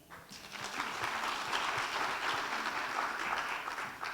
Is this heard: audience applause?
yes